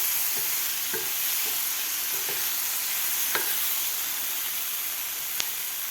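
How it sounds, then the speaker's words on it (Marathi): A potato and capsicum sabzi gets stirred in a hot pan: a continuous soft sizzle broken by several light scrapes and one sharp clink near the end, close by and without speech. "परत एकदा याला मिक्स करून घेऊया."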